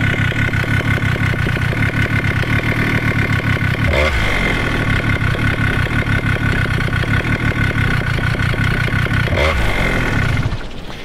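A Vittorazi Moster 185 paramotor engine idles loudly and steadily after a carburetor low speed needle adjustment, a rapid chugging putter that briefly surges twice before settling and cutting down at the end.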